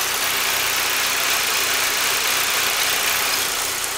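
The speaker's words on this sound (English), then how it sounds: "Engine is running good." A 2008 Saab 9-3 2.0T engine idling with a misfire on cylinders three and four, a steady, loud mechanical drone with a faint uneven pulse, heard up close with no talking.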